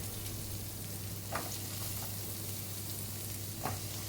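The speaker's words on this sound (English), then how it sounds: "So we got our onion and garlic. We're gonna go ahead and cook some of this so it starts to get a little tender." Onion and garlic frying in a pan for a chicken and enoki mushroom stir-fry give a steady, even sizzle, with a couple of soft stirring scrapes and a low hum beneath.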